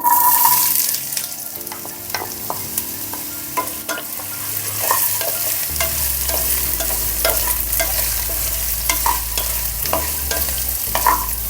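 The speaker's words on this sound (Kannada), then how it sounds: "ಇವಾಗ ಇದಕ್ಕೆ ಬೀಟ್ರೋಟ್ ಹಾಕ್ಕೊತಾ ಇದ್ದೀನಿ" Beetroot stirred in a frying pan for beetroot kurma, with a continuous soft sizzle under repeated scraping and clinking strokes of a spoon against the pan.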